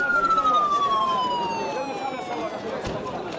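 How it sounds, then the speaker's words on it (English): Ambulance sirens wail as the vehicles arrive from Rafah at Khan Yunus hospital in Gaza. One loud, steadily falling siren tone sounds over busy crowd and traffic noise. "This is more ambulances coming in from Rafah to the Khan Yunus hospital here"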